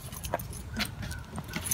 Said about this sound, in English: Having a little bit of trouble locking the door.